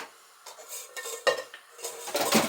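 A saucepan and metal utensils clank and scrape in a few irregular bursts, close by, with short quiet gaps between the knocks.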